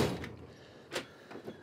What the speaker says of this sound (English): Another random drawer.